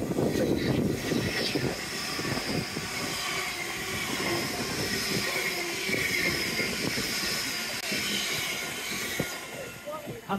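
A train rumbles past along the sea wall at Teignmouth, a steady broad roar with rattling undertones and some wind noise, sustained and fairly close for about ten seconds, with no horn.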